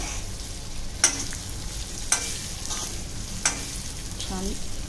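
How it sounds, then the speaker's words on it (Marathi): Sesame seeds and asafoetida tempering crackle and sizzle steadily in hot oil in a pan over high heat, with a few sharp pops and a brief voice near the end. "प्रॉपर फोडणी आपण देतो तशी."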